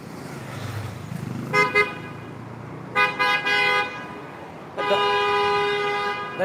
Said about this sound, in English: Got a bus coming.